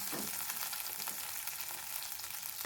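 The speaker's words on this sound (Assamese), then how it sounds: "মই আলুখিনি এতিয়া ভাজি লওঁ ধুনীয়াকৈ।" Potatoes frying in a pan for a sesame fish curry, giving a continuous bright sizzle and crackle that holds steady throughout, close and alone with no voices.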